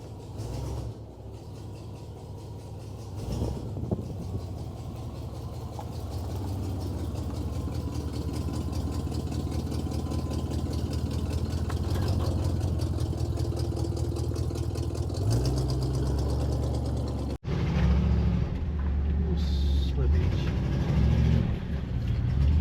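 An old car engine runs as the car is driven again after 16 years off the road, a steady mid-pitched drone with mechanical rattles that grows louder, then cuts abruptly to a rougher, closer engine note.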